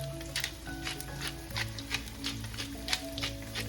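Potatoes fry in a pan over medium-high heat, a steady crackling sizzle with scattered pops and light clicks of utensils, close and continuous.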